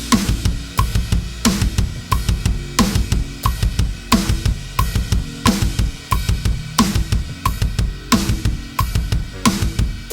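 A drum kit plays a two-measure kick drum exercise built on fast kick triples, steady repeating strokes with regular accented hits, close and moderately loud with no voices.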